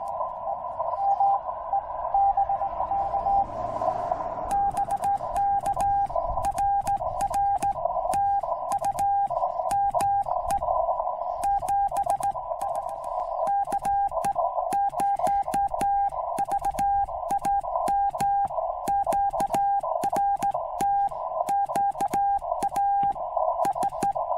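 Morse code on amateur radio during a park activation at Petrified Forest National Park, heard as a steady keyed tone beeping out rapid dots and dashes over a constant background hiss, running loud throughout.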